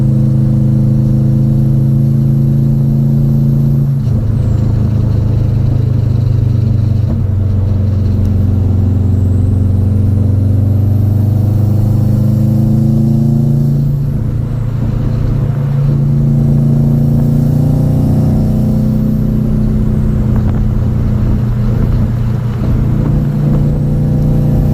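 A tuned car's engine warms up and accelerates on a test drive, loud and close throughout, with the engine note climbing through repeated rev sweeps and gear changes.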